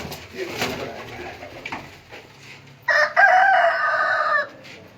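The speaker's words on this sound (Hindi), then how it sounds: "ये कबूतर है।" Pigeons at a seller's coop give a short burst of cooing and calls, fairly close and clear, following quieter rustling and faint background talk.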